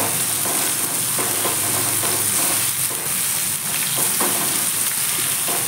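Bottle gourd pieces stirred in a hot pan with salt and turmeric, a steady loud sizzle under repeated scraping strokes of a spoon, close up and continuous.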